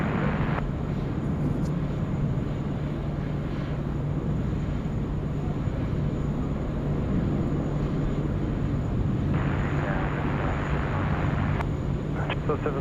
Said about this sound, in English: FedEx 6013 now rolling.